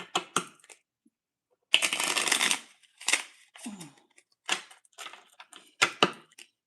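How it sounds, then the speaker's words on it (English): A deck of cards is shuffled close up during a live stream: crisp, brief riffling bursts come in irregular clusters, one longer riffle among them, separated by silence. "I'm gonna go ahead and do some shuffling here."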